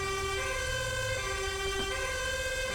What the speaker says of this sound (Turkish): Sireni sustur dayı.